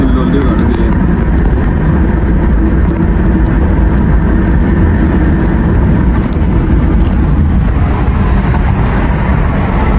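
A car travelling on a road trip toward Naran gives a loud, constant engine and road rumble with no breaks, and voices talk over it inside the cabin.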